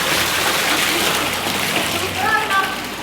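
Rainwater gushes loudly and steadily from a large rainwater harvesting pipe at a house, a close continuous rushing splash with a few faint higher tones near the end.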